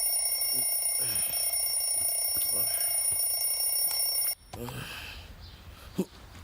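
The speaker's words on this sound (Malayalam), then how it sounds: "ആരാണ്ട് യന്ത്രത്തിന് പാല് കാച്ചാനാണ് അലാറം വെച്ചത്." An alarm clock rings loudly and steadily in a comedy film scene, then cuts off abruptly, leaving quieter room sounds and a brief soft thump.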